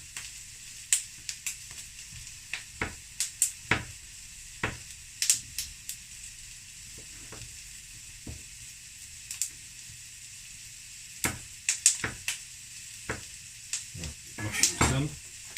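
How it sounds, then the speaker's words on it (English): Pork belly sears in a hot pan with a steady close sizzle, broken by scattered clicks and scrapes as pieces are stirred and turned. "We need to sear all of the sides, sear all that lovely flavouring."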